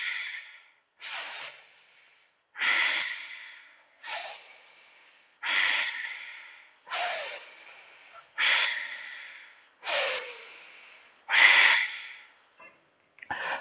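Slow yoga breathing, about eight long, close, audible exhales spaced roughly every one and a half seconds in an otherwise silent room.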